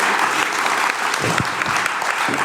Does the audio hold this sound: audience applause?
yes